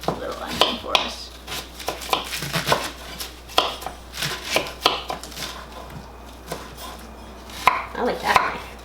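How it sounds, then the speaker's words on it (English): Knife chopping a small onion on a cutting board in a home kitchen, a run of irregular close thuds and taps with a few pauses, while people talk now and then. "Now I'll chop this little onion for us."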